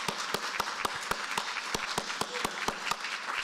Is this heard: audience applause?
yes